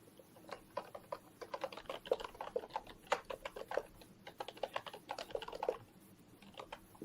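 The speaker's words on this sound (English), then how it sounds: "I was typing" A computer keyboard clatters close by in irregular bursts of quick key taps with short pauses between runs, fairly soft and with no talking over it.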